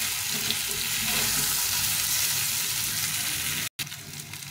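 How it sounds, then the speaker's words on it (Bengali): Flattened rice (chira) frying in a hot pan for a snack, giving a steady, close hiss and sizzle with faint scraping throughout, broken by one brief silent gap near the end; no one speaks. "গরম দিয়ে এখন এগুলো একটু ফ্রাই করে নিচ্ছি।"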